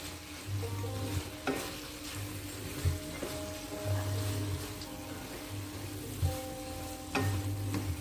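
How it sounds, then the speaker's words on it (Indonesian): Kerang remis clams being stirred in a hot pan for gulai: a steady sizzle and frying hiss with repeated scraping and clinking of the utensil against the pan, close and alone. "baru kita masukin remisnya ya. Kita aduk-aduk ya teman."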